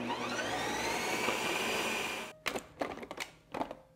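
A countertop ice cream machine spins plant-based light ice cream, a steady loud whirring grind for about two seconds, then stopping and giving way to a few brief clunks and knocks.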